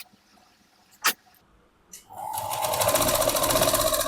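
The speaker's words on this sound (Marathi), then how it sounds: "आता आपण इथे शिलाई देऊन घेऊया" A sewing machine runs steadily, stitching a half-inch seam to attach a sleeve on a princess-cut blouse. A single sharp tap comes first, then a brief pause, and then the close, continuous motor whir holds for the rest of the clip with no talk.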